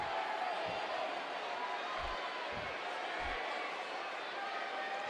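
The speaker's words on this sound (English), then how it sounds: "Crowd is antsy." A restless wrestling arena crowd makes a steady low murmur of many voices throughout, with a few dull thumps underneath and a commentator speaking over it.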